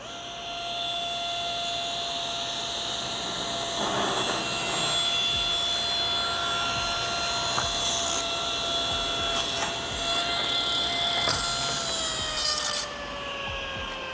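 A powered saw cuts a wooden board for a guitar neck, giving a steady whining motor hum with rougher rasping bursts as the blade bites the wood, then the pitch drops as the cut finishes near the end.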